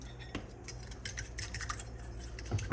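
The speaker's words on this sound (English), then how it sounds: "Now I'm going to whisk in, and I'm not going to measure, a little bit of that Italian seasoning." A whisk stirs Italian seasoning into a marinade for Puerto Rican chicken pinchos, giving faint, quick metallic clinks and scrapes against the bowl, quiet and close, with a slightly louder tap near the end.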